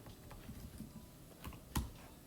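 Typing on a laptop keyboard: faint, quiet, irregular key taps with one sharper click near the end, close and alone.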